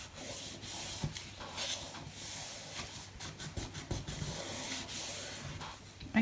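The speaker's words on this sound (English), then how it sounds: "Wipe off some more glue." Close, steady rubbing and wiping sounds come from glue being wiped off a crafted journal cover and burnished firmly down, a continuous soft scrubbing with a few sharper strokes.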